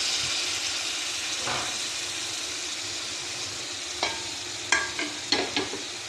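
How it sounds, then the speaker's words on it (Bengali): Water-soaked spices fry with prawns in a pan, giving a soft continuous sizzle. Several sharp scraping clinks of stirring come toward the end. "দিয়ে ভালো করে এগুলো কষা নেব"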